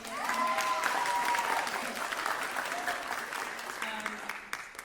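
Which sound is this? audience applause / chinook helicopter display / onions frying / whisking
audience applause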